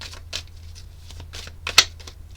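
A tarot deck being shuffled by hand, heard as a handful of short, close papery card bursts with one sharper snap near the end, with no talking.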